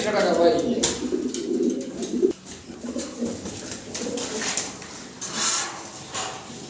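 Fancy pigeons coo in pens, a series of low throaty coos rising and falling close by, with someone talking throughout and occasional rustles and clatter.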